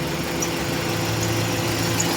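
A Toyota Vios engine idling rough with a misfire, a steady low mechanical hum and vibration heard close up throughout, with no speech.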